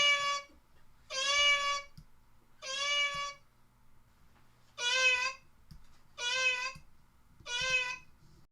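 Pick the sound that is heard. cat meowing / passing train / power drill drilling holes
cat meowing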